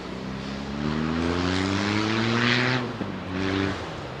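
An airliner with GE jet engines winds down after a long flight on arrival at London Heathrow. A loud, close engine roar with descending tonal whine fades, dips, then briefly swells again, with no talk.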